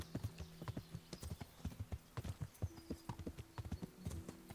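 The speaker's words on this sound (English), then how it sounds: "If only the horse can go." Horse hooves clip-clop in a steady trotting rhythm in the video game Kingdom Come: Deliverance, moderately faint, with a soft whinny-like tone and light background ambience.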